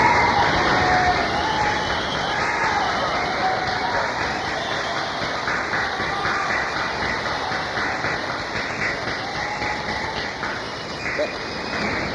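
Concert audience cheering and applauding inside the Vassar College chapel, a few hundred people making dense, steady crowd noise of claps and shouts that fades slightly over time.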